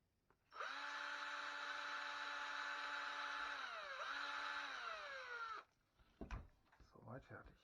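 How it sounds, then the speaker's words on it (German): Power drill boring through a plastic skull model part during assembly, a steady loud whine held for about five seconds with a brief pitch dip midway, then stopping and followed by light handling noises. "drill through and keep going just a little longer"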